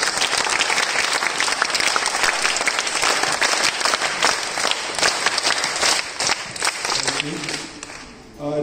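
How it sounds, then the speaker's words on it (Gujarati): Sustained applause from a large crowd at a welcoming ceremony for guests, loud and steady for about seven seconds before thinning out near the end, with a voice starting to speak over it. "જોરદાર તાળીઓથી સ્વાગત કરીએ છીએ"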